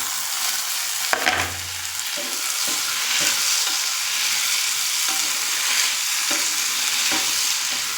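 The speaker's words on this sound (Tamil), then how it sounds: "சின்ன பீஸாக போட்டு அதையும் போட்டு வதக்கிடலாம்" Small chopped tomatoes sautéing in a pan for a kurma: a loud, close, continuous sizzle and frying hiss, with a sharp knock early on followed by repeated stirring scrapes, and no speech.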